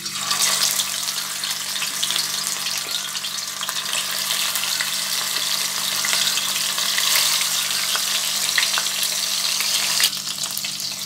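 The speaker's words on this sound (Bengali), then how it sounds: "तेलटा गरम हये गेছে, माछगुलो भेजे नेब।" Shol fish frying in a kadai of hot mustard oil, a loud continuous sizzle with crackling pops close by, no voices.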